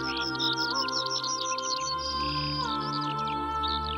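A Eurasian bullfinch sings in a light woodland setting: a steady stream of soft high chirps and short whistled notes over a continuous tonal hum.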